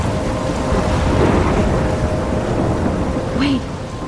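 Steady heavy rain with rumbling thunder fills a stormy scene in the video game Life is Strange, a loud continuous downpour with deep rolls throughout.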